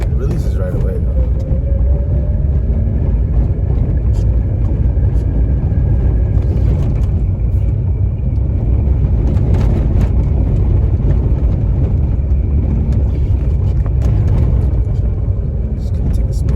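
A 2005 Mazda RX8 is being driven, its engine and road noise producing a steady loud rumble throughout, with a person talking over it.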